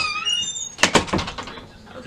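A bedroom door swings shut with a short creak followed by a cluster of knocks and thumps as it latches, fairly close and loud in a quiet room, fading to stillness afterward.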